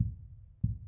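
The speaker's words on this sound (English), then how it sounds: "I do have a heartbeat." A heartbeat sound effect plays: deep, muffled low thumps, one sustained pulse followed by two more close together, soft and isolated with nothing else around them.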